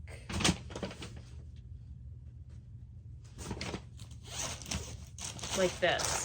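Clear plastic bags rustle and crinkle close up in short bursts with a quiet gap between them, while a person talks over the handling.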